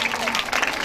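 At a school teachers' awards ceremony, an audience breaks into a short, dense burst of applause as a female teacher comes onto the stage.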